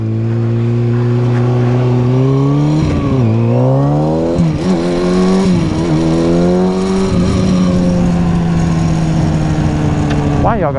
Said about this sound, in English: I still hear a little cam chain noise.